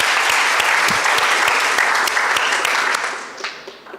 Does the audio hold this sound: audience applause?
yes